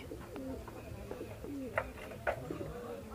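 Shahjahanpuri pigeons cooing softly nearby, low throaty coos repeating a few times against a quiet background.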